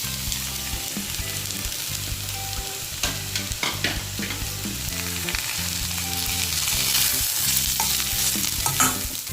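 Potato masala being stirred in a pan with coriander and curry leaves, a steady close frying sizzle with repeated scraping stir strokes, accompanied by soft background music and no talking.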